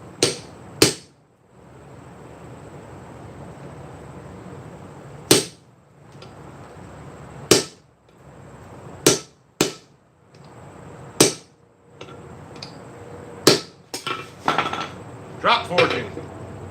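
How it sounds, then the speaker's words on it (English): Hot metal is drop forged with a hammer at a blacksmith's forge, a few loud, sharp impacts spaced irregularly over steady background noise, with a quicker cluster of strikes near the end. "Drop forging."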